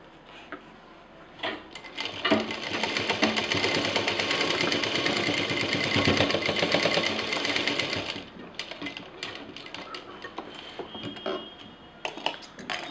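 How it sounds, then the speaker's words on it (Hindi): A sewing machine stitches a folded fabric frill, whirring steadily and quickly for about six seconds before slowing and stopping, followed by a few light clicks and handling noises nearby. "फोल्ड करते हुए सिलेंगे।"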